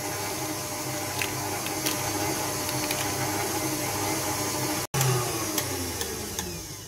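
An electric mixer whirs steadily at close range, beating a creamy mixture with sugar for a coconut-ball batter, with a continuous motor drone that cuts out briefly and then resumes.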